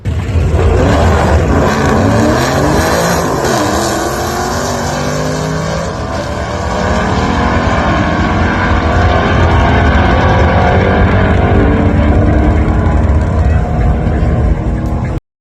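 A nitrous-fed Boss 302 Mustang with a freshly built motor and a 75 shot launches down a drag strip, a loud, close engine roar climbing through the gears for a long sustained pass.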